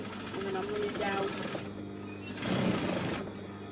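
A sewing machine stitches fabric for hair ties in a steady mechanical whir with two bursts of running, a quiet gap between them, close and moderately loud, with a voice talking over it.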